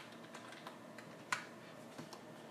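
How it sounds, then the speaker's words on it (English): Light, irregular keystrokes tapped on a computer keyboard, about a dozen soft clicks with one sharper, louder press midway, close and quiet with no talk. "search for CMD, and from here type ipconfig"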